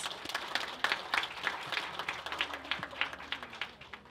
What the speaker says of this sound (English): Everyone, a warm applause for our completers and graduates.